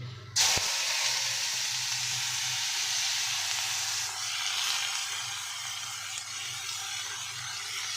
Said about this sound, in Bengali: আগে থেকে কেটে রাখা বিনস গাজর আলু পেঁয়াজগুলো সব একা একটা কড়াইতে দিয়ে দিলাম